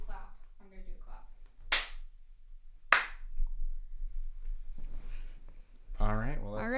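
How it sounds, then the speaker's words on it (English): Two sharp, loud single hand claps a second apart, close by, between stretches of casual conversation in a room. "I'm gonna do a clap."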